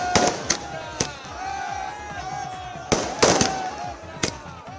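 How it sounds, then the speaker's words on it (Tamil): Fireworks bursting over Ayodhya during a night celebration, several sharp cracks and booms scattered irregularly over a few seconds amid crackling and a faint background of voices. "இதேபோல் அயோத்தியில் வான வேடிக்கைகளும் நிகழ்த்தப்பட்டன."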